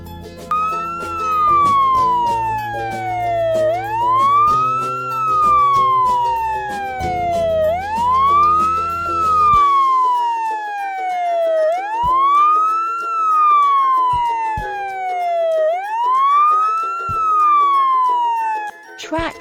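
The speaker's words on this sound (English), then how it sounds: "fire truck" A fire truck siren wails loudly and close, its pitch sweeping down and snapping back up in four slow, repeating cycles over a low rumble that drops away partway through.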